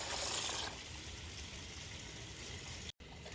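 Tap water gushes at full pressure through a bag of filter resin, a steady broadband rush of flowing water with a brief dropout near the end.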